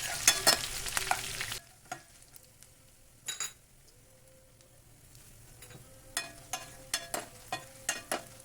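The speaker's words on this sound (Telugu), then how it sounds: "మెంతులు దోరగా వేగాక ఉల్లిపాయ ముక్కలు, ఎండుమిరపకాయ ముక్కలు, కరివేపాకు వేసి పోపు బాగా వేగాక కొద్దిగా ఇంగువ వేసుకొని పోపు" Onion pieces, dried chili, curry leaves and a pinch of asafoetida fry in hot oil for a tempering, with a brief loud sizzle at the start followed by faint frying and scattered clinks of a stirring spoon.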